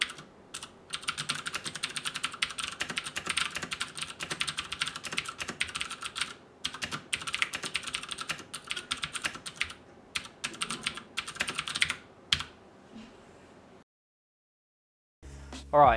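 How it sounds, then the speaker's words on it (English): Loud, clicky typing on a HyperX Alloy FPS mechanical keyboard with Cherry MX Blue switches, a steady rapid stream of sharp keystrokes with brief pauses that stops abruptly near the end, heard up close with no talking. "So I'll give you a typing test and you can hear how it sounds."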